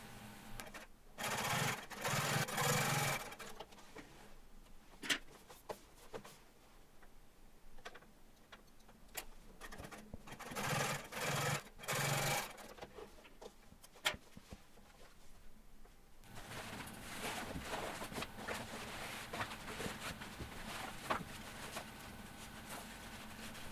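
A sewing machine runs in several short bursts while double top stitching a seam on a pair of jeans, the motor whirring up and stopping between runs, followed by a longer stretch of steadier, fainter machine noise.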